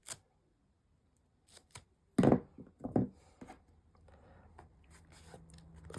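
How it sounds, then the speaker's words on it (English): Scissors or a craft blade cutting triangles out of chipboard, a few close crunchy snips in short bursts separated by quiet pauses, with light handling rustle afterward. "Cut away all 4 triangles."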